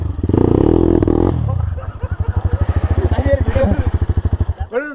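A light dirt bike runs close by, revving hard at first and then settling into a loud, rapidly pulsing idle before a final short rev, with a voice talking over it.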